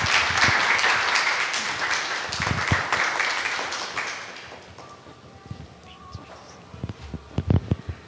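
An audience at a book talk event gives warm applause that is loud at first, then thins out into scattered claps and a few close taps and knocks as guests take their seats.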